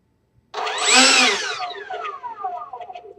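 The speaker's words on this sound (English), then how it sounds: "You guys ready for a little engine noise?" Small jet turbine of a radio-controlled de Havilland DH 100 Vampire MK6 model spooling up with a rising whine and roar, peaking briefly then settling into a steady, loud running hiss with shifting harmonic tones.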